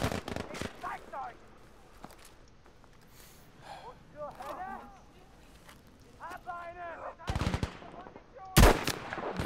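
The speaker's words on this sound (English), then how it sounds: "I keep shooting and just hitting all these stupid rocks in the way" Video game gunfire crackles in a few short, sharp bursts spread across the stretch, with a player talking throughout and gasping between shots.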